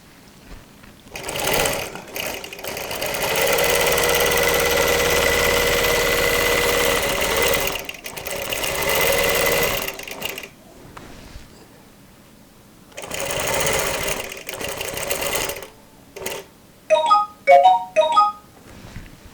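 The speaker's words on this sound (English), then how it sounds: "I'm stitching along, and I'm going to simulate a thread break" A CS7 sewing machine stitches a pattern in loud continuous runs broken by brief pauses, then stops after a simulated thread break; a few short bright chirps follow near the end.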